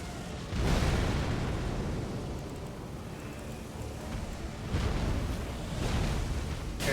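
Explosions in the video game Elden Ring, in the Caelid area during a Death Rite Bird fight: a heavy rumbling blast near one second followed by further booming bursts around five to six seconds, with a continuous noisy roar between them.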